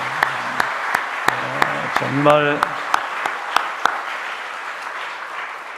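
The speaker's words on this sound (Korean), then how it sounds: "하나님께 영광의 박수를 올려드릴까요?" Congregation applause inside a church during an early Wednesday morning worship service, a steady wash of clapping under a voice speaking briefly partway through.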